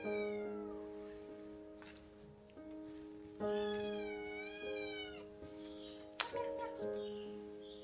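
A small rescued kitten, one of several abandoned in a cold field and with eyes still recovering, meows again and again close up, with thin high cries coming in an uneven series over several seconds.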